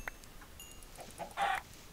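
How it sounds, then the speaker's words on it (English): Minecraft chickens give a short burst of clucks, one sharp bright cluck in the middle standing out over faint game ambience and scattered small clicks, with no talking. "But these chickens are nice."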